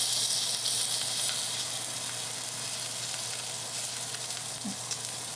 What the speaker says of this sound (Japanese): 焼き餃子はそこに焦げ目をつけようと思って今焼いてる途中です。